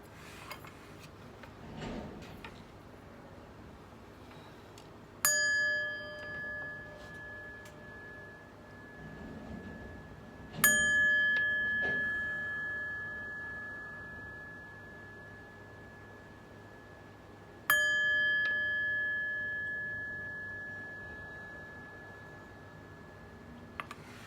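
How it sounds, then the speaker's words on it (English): Three separate chime strikes ring out clear and metallic, each note sustaining and slowly fading before the next, with faint rustling and small clicks in the quiet gaps between. "But first, let's chime."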